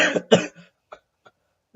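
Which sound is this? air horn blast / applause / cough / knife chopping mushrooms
cough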